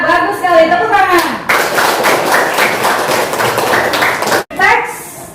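Students in a classroom clap together, a loud run of rapid, overlapping hand claps lasting about three seconds, with talking before and after it.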